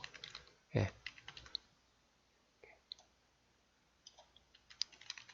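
Computer keyboard keys pressed for Ctrl+Z undo while working in PowerPoint 2010, heard as faint scattered clicks and one louder thump, close to the microphone and quiet overall.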